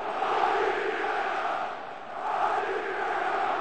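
A large football stadium crowd at an Olympiakos versus Benfica match in 2008 roars and chants as a continuous dense wash of voices, swelling and dipping slightly, with no clear commentary on top.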